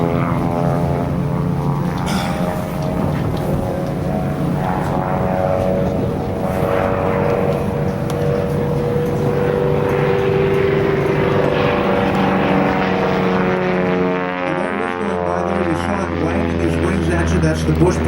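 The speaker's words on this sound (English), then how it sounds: "The airplane, a 1955 Piper Super Cub." A 1955 Piper Super Cub bush plane in Alaska drones steadily past with a loud propeller hum whose pitch slides as it goes by, with a voice talking over it.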